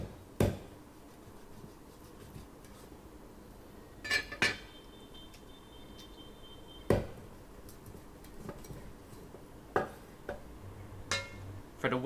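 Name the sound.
cleaver chopping duck drumette in half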